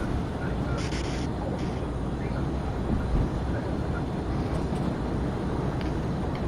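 A simulated Cessna Caravan turboprop rolls down the runway and lifts off in Microsoft Flight Simulator X, a steady, droning engine roar at even loudness throughout, with a few brief higher tones near the start.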